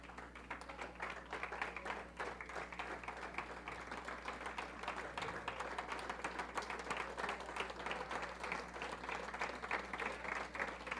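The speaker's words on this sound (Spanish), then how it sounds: "Póngase sobre sus pies y déle ese aplauso al Señor como tiene que ser" A church congregation applauds with many hands clapping in a dense, steady roar that stays even and sustained throughout, heard from within the room with a faint low hum beneath.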